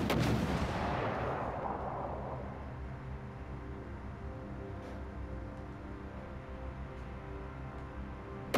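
Naval guns fire in the World of Warships Legends naval battle game, with one heavy, loud boom opening that decays into a long rumbling tail under steady background game noise, with no talk.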